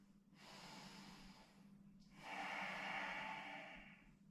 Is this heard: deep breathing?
yes